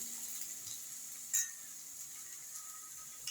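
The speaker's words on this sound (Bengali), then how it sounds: "এটা আমি এক মিনিট এখন ভেজে নেব" Ginger and garlic frying in a pan, a soft steady sizzle close by with a brief louder crackle or stir partway through; no one talks.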